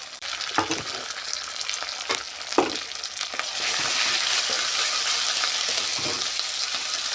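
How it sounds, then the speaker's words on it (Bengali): Ground cashew, poppy seed and fennel paste frying in a pan for doi rui, a close steady sizzle that swells louder partway through, punctuated by a few scraping stirs. "এবার আমি দিয়ে দেব বেটে রাখা কাজু, পোস্ত, মৌরির যে পেস্ট আমি বানিয়েছিলাম ওটা দিয়ে ভালো করে কষাবো"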